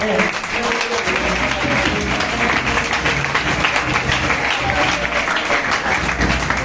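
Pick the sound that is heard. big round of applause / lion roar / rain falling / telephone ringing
big round of applause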